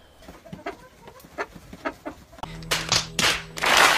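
A person mimics a hen's clucking, a run of short separate clucks that grows louder and more excited toward the end, with no other speech.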